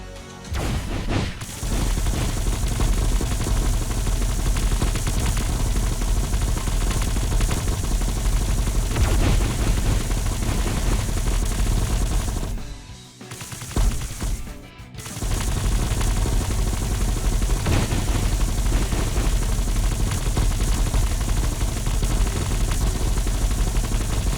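Sustained rapid gunfire from Violet's gun in the video game Final Gear, a dense continuous barrage that drops out briefly twice before resuming at full loudness.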